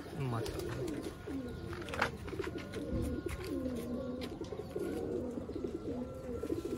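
Sialkoti pigeons coo in a rolling, repeated rhythm close by, several birds overlapping with steady throaty calls over faint background noise.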